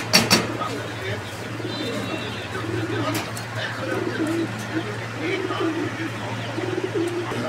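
A male Maxi Shoking pigeon coos repeatedly at close range amid a steady mechanical hum, with people talking at a pigeon seller's stall.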